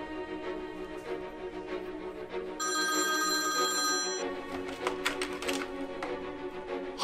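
A telephone bell rings in a bright, rapid, high-pitched burst as a phone call is placed. Tapping sounds come before it, and clattery handling noise follows.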